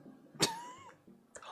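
One sharp human cough bursts out near the mic at a home dinner party, a short raspy hack followed by a fading breathy tail, with a quieter throat sound shortly after.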